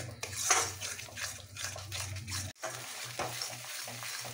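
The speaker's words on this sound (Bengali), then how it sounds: "মশলার সঙ্গে পুরো শাকটা মিশিয়ে ফেলতে হবে" Spinach mixed with spices and a pinch of sugar is stirred in a pan, with soft scraping strokes and a light sizzle over a low steady hum, faint and close with no talking.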